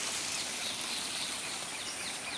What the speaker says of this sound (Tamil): ஒவ்வொரு பறவையோட சத்தத்தையும் இங்கே கேட்கலாங்க